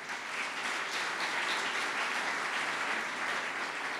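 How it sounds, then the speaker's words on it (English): Audience at an annual federation meeting gives a round of applause, steady continuous clapping from a large crowd, even and somewhat distant throughout. "and Karen Suroff of the JFNCS, you deserve our praise and thanks and a round of applause as well."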